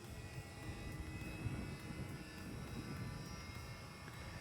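Turbine engine accelerating on a vibration balancing check run, a steady, loud broadband roar with a constant low rumble and high whine that holds evenly throughout, no voices.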